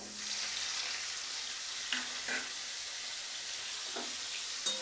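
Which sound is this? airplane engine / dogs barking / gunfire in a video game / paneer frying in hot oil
paneer frying in hot oil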